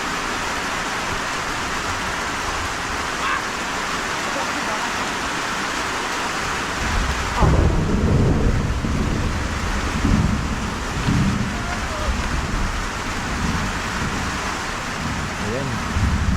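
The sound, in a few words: rain and thunder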